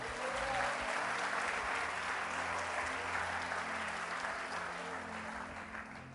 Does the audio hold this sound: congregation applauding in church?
yes